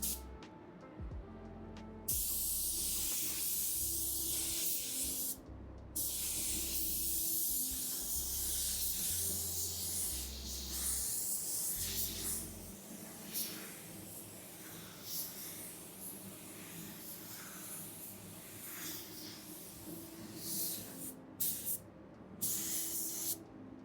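A DV1 paint spray gun hisses in long continuous bursts, pausing briefly between passes, loud and close, with a low hum running underneath.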